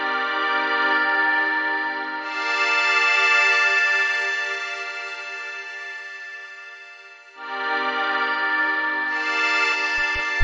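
A sustained FM synth chord from a garage house track holds steady for the whole stretch, swelling and brightening in two waves with a dip between, clean and alone with no voice.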